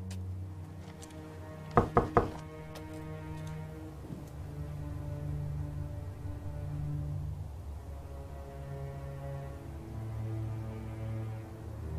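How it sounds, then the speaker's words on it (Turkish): Three quick, loud knocks on a door sound close by in a quiet room, with a low hum and a soft musical drone beneath, in a Norwegian horror film from 2009. "Kapıyı vurabilir misiniz?"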